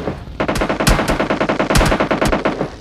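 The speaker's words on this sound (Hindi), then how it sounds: "तभी पीछे से आता है खतरनाक वाली फायरिंग" Rapid automatic gunfire in PUBG Lite, coming from behind the player in a match, sounding as loud repeated bursts of close shots with no talk.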